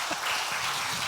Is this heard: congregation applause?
yes